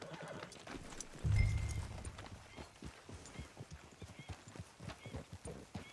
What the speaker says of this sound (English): Look at Dutch's little white horse.